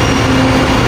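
Light rail LRT train running, a loud, steady low rumble with a faint sustained hum, heard very close for under a second without talk.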